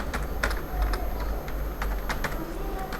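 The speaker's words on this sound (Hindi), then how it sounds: "इसी तरह से अगर हम इधर वेलकम लिखते हैं" Steady keystrokes on a computer keyboard as a word is typed, a run of light, irregular clicks close by with no voices over them.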